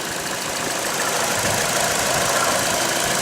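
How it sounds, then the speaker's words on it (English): A quiet 1.8 engine in a new car idles steadily close by, a soft even hum with a faint mechanical ticking and no talking. "Very quiet engine."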